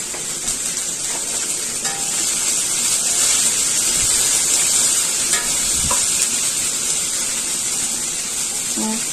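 Thinly sliced okra frying in a pan alongside fish, giving a steady loud sizzle and hiss with occasional stirring scrapes throughout.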